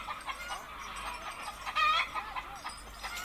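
Chickens cluck continuously through a song, busy overlapping calls with a louder squawk near the middle over a soft musical bed.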